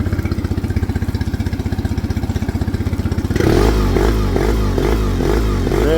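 A Suzuki DF20A outboard motor runs with a rapid, pulsing putter and then abruptly becomes louder and rougher with a deeper, busier engine drone, heard up close.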